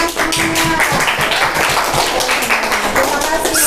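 A classroom of students claps together during a religious-education teaching practice lesson, a dense, steady patter of hand claps filling the room with voices mixed in.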